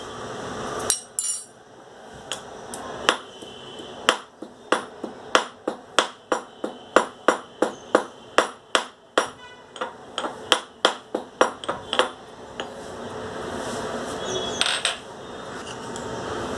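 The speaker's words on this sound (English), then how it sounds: "Now I will crush them." Burnt cloves being crushed, a long series of sharp, clicking knocks at a steady, fairly quick rhythm, close and fairly loud, with brief pauses and no talking.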